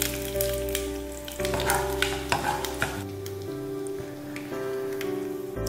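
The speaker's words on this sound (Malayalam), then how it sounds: "എണ്ണ ചൂടായിട്ടുണ്ട്, നമുക്കിതിലേക്ക് കടുകിടാം." Mustard seeds, along with chilies and fenugreek, hit hot oil in a pan, giving a bright crackling sizzle with spattering pops that stays close and continuous, over a steady background hum.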